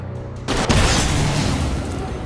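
A sudden heavy boom bursts out in the video game Alan Wake, following a quieter stretch, then rolls on as a loud, sustained rumbling blast.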